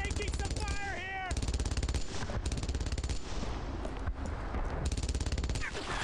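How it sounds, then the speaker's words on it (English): Sustained automatic gunfire and rattling shots from the WWII shooter Brothers in Arms: Earned in Blood, dense and loud throughout with brief gaps, mixed with battle noise and a short whistling sound near the start. "I'm taking some fire here"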